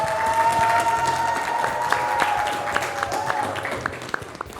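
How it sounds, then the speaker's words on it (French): A studio audience on a French-language talk show applauds to welcome a returning guest, a steady wash of clapping that stays loud throughout with a few sharper claps standing out near the end. "nous l'accueillons avec nos applaudissements"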